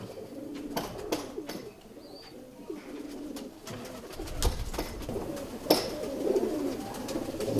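An aged Ferozpuri or Rampuri pigeon coos softly nearby in low, rolling murmurs, with a few sharp clicks and flutters scattered through.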